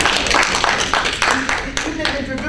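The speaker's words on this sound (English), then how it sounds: "Please give her an applause." An audience applauds a speaker at a talk, a dense patter of hand claps that fills the room throughout, with a voice speaking over it.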